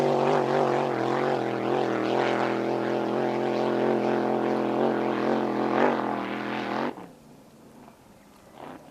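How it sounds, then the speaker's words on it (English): A GP1 racing powerboat at high revs, a steady droning engine roar that cuts off abruptly as the driver lifts off the throttle into a corner, leaving a quieter, rougher rumble. "Hear him just come off the throttle into the corner."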